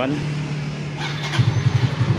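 A motorcycle with a freshly charged battery is started, a low steady idle hum that turns into rapid rhythmic engine pulses after about a second, close and fairly loud, with speech faintly underneath.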